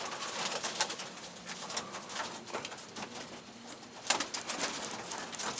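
Sion pigeons coo softly inside a loft, with scattered low calls, faint patter and shuffling of wings over a quiet, steady background.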